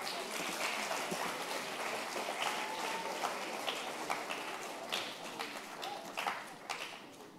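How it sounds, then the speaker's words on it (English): Applause at a school leadership event for an ambassador's audience, a faint, distant patter of many hands clapping at a low, uneven level throughout. "maybe you can applaud yourself for everything that you've done"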